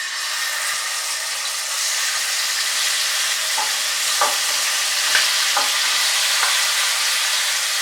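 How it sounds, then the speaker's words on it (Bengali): Marinated chicken, coated in its marinade, fries in hot oil in a pan with a loud, continuous close-up sizzle and a few soft stirring clicks; nobody talks. "তেলটা ভালো মতো গরম হয়ে গেলে এর মধ্যে আমি ম্যারিনেট করে রাখা চিকেনটা ম্যারিনেট সহ এর মধ্যে দিয়ে দিচ্ছি"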